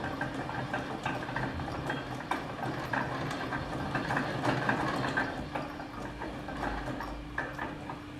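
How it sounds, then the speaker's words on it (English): Cable coiling machine winding a 10-meter length of cable, a continuous mechanical whirr with a steady ratcheting, clicking texture, moderately faint and close, with no talking. "winding our desired length of material. I'm going to wind, let's say, 10 meters"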